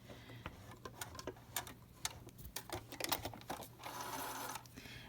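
A sewing machine stitches a cloth face mask strap in a quiet room, giving soft, uneven ticking and short mechanical bursts, with a brief stretch of faster steady running near the end.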